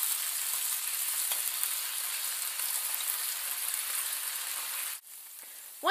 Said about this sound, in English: we're going to use that to marinate the tofu as we're grilling it